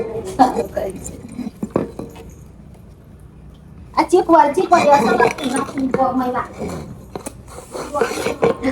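A stuck pressure cooker lid is twisted and handled, with metallic clinks and clatter of pots. Voices talk over it before a quiet stretch, then loud handling noises and talk resume.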